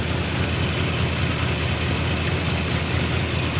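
A tractor engine idling with no load at about 1150 rpm, a steady, loud, even firing drone throughout with no talk.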